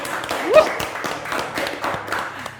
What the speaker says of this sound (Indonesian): Kita beri tepuk tangan dulu buat Mas Ridwan sama Neha.